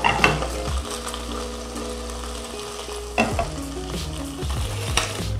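Chicken fillet searing in a hot pan with a steady sizzle and bursts of stirring and scraping, alone without talk, while a tonal hum runs underneath.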